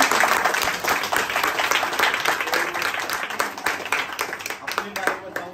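Applause from a small group at a home business meeting, brisk, close clapping with uneven rhythm that continues for several seconds at moderate loudness, with voices mixed in.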